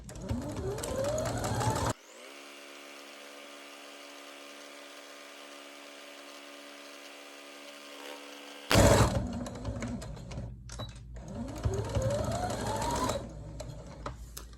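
A sewing machine stitching a pillowcase cuff, running in fast, continuous bursts with a whirring motor. It stops for several seconds of quiet hum, then starts again with louder stitching.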